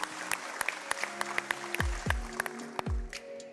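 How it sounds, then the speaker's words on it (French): Applause from a television talent show audience as two contestants leave the stage after a battle round, sharp scattered claps with a few heavy thumps and a voice in the background. "Zox et Dominique, applaudissez-les s'il vous plaît pour les raccompagner."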